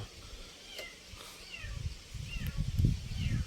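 Several faint, thin cat meows rise and fall over a steady low rumble and shuffling background noise, spaced irregularly and heard from a short distance.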